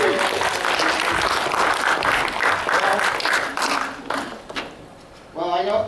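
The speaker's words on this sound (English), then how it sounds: "and round of applause." Audience applause fills a game show hall at a fan convention, a dense steady wash of many hands clapping that fades out near the end before a voice starts speaking.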